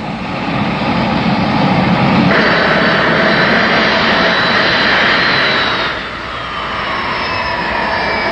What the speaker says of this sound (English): Then run up and trimmed, equalized thrust from all four engines at identical throttle settings.